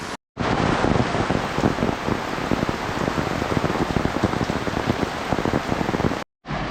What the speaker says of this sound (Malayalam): അപ്പോൾ നല്ല കിഡിലും മഴയാണ് ഒരു രക്ഷയില്ല